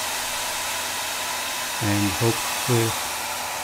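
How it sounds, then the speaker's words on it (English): A hairdryer blows warm air onto an Asus ROG Hero motherboard that is stuck in a boot loop, a steady loud broadband whoosh throughout, with someone speaking briefly over it near the end. "the trick that I found in internet is with the hairdryer, put some warm air on the board"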